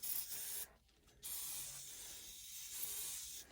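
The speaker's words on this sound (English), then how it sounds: "The new Calgon, no rinse evaporator coil sprayer" Quiet hissing sprays of no-rinse evaporator coil cleaner come in bursts on an HVAC system, with a short pause between them, faint and close, with no talking.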